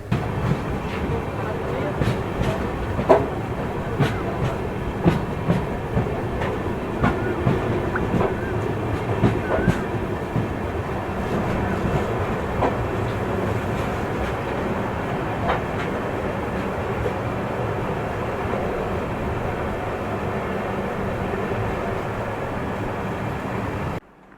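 Passenger train on the Delhi to Nainital route, rolling steadily along the rails with a constant rumbling drone and faint repeated rhythmic clicks from the carriage, heard from inside for the whole stretch.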